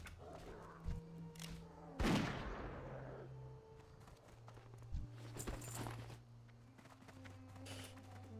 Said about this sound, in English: the classic WoW gunshot sound